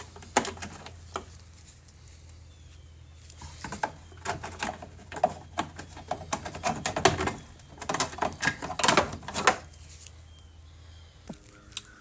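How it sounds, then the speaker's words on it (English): Sharp, irregular clicks and snaps ring out close by as a plastic trim tool pries clips loose from a 2017 Nissan Rogue's plastic trim, some single pops and some quick clusters, with quiet gaps between them. "we're just going to start with our little trim tool, popping these little clips up"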